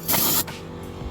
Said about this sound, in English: sorry about the noise of the air compressor.